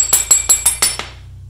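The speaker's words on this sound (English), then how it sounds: "Chip away at that undercoating" Sharp metallic chips as old undercoating is knocked off the underside of a 1965 Ford Thunderbird convertible, six quick ringing strikes in a steady rhythm, close and loud, then a low hum under the fading ring.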